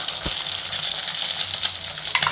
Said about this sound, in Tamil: இப்போ வந்து நம்ம முட்டை போடணும்.